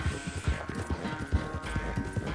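A horse galloping in Red Dead Redemption 2, its hooves beating a fast, steady clip-clop rhythm close up under a low background of game sound.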